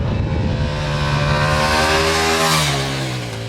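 A 2023 Ducati Diavel V4 power cruiser accelerates hard nearby. Its engine note climbs steadily in pitch through a sustained loud pull, with no talking over it.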